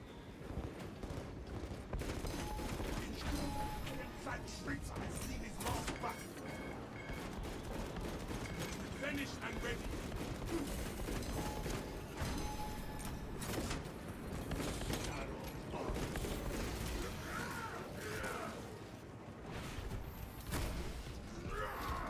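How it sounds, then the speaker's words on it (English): Bolt pistol fire in the video game Warhammer 40k: Space Marine 2, rapid repeated gunshots and heavy combat bursts, dense and loud throughout among mechanical clatter. "I do like the bolt pistol. It's very fun to use."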